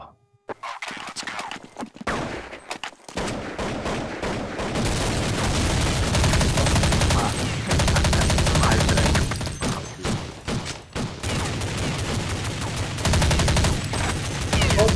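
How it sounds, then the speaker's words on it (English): Dense, sustained machine-gun fire rattles through walls during a Brain Drain game session. The loud automatic bursts run almost continuously for several seconds with brief gaps, and a voice is faintly present underneath. "Somebody's shooting through the walls."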